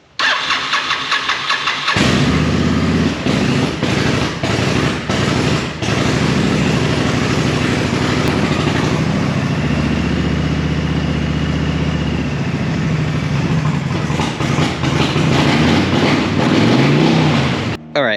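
A broken Honda VTX motorcycle engine cranks and catches with its choke pulled slightly out, then runs loud and close, revving up and down in uneven surges before cutting off.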